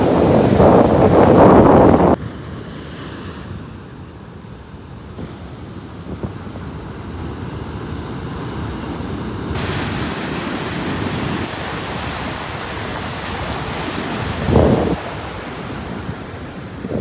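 Sea waves crash and wash onto the shore under steady wind buffeting, with a loud close rush at the start, then a continuous broad roar and another surge near the end.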